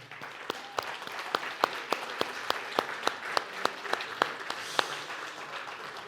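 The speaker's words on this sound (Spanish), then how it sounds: "todos honremos a nuestras mamás con un aplauso en este momento" A church congregation applauds the mothers, its clapping fairly soft and distant, with sharp individual claps standing out at a steady rhythm over a wash of lighter applause that fades slightly toward the end.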